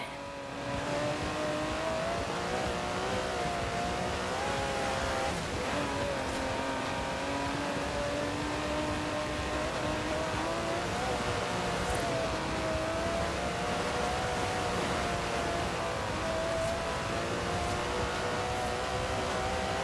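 The 5.2-litre twin-turbo V12 of an Aston Martin DB11 in Forza Horizon 4 roars continuously close up, its pitch rising and falling through gear changes and acceleration, loud and unbroken.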